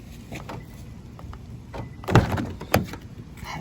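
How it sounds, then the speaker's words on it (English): A car door coated in sticky tree sap is pulled open, giving a soft peeling crackle and then two louder tacky thunks close by over a quiet background. "You can hear the sap when you open the door. It's so sticky."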